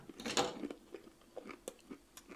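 Close, quiet bites and crunching on a crispy barley semolina mountain-style galette, one sharp crunch followed by a series of softer, irregular chewing crackles.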